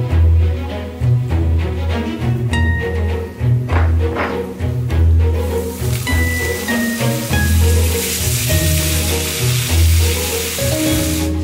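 Meat and onions fry loudly in a kazan, a constant close sizzle with stirring clatter and scraping, while music plays underneath and the hissing grows brighter toward the end.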